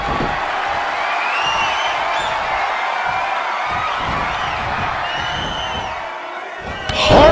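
Wrestling arena crowd cheering, a continuous loud roar of many voices with rising whoops and a swell near the end.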